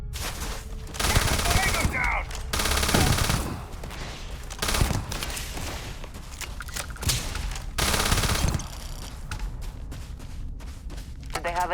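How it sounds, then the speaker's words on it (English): Rapid automatic gunfire from a new weapon in the video game Starfield, several long loud bursts of shots separated by brief gaps, with a voice faintly under the fire. "Try one of the new guns out"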